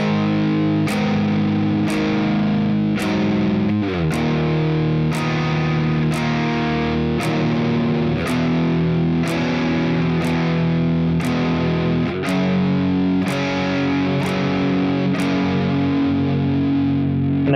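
A distorted electric guitar plays the verse of a song at a slow tempo, with steady, loud, crunchy picked notes in an even rhythm and no voice over it.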